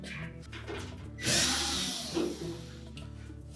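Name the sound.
screws being removed from Samsung dryer support piece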